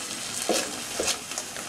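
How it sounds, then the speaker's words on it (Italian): Steady sizzling of pancetta browning in a frying pan, with a few scraping stirs breaking through the hiss. "mentre rosola la pancetta"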